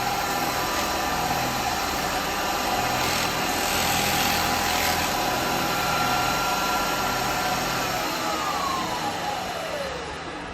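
Wood lathe spinning a turned piece of rotten tree branch, a steady high motor whine holding for several seconds before winding down in pitch near the end.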